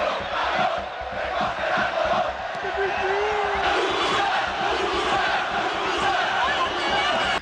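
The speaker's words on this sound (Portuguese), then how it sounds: "cantos e gritos como esses eram comuns em todas as arquibancadas do país" Football fans in the stands of a Spanish stadium during the 1990s, chanting and shouting together as a dense, sustained crowd roar that stays loud and steady throughout, with individual yells rising from the mass.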